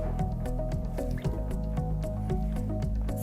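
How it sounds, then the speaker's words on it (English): Squeegee blade scraped so plastisol ink slides back into its tub, giving repeated wet, squishy scrapes and soft drips in a steady close-up rhythm. "scrape off as much of the ink as you can off of the squeegee blade"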